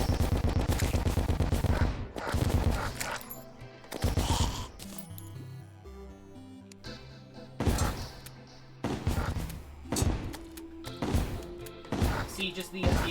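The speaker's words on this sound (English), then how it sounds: "See, just the explosive bullets are just funny." Explosive bullets fire in Terraria in rapid bursts of sharp cracks and booms, separated by short gaps, close and loud, with game music and a voice talking between volleys.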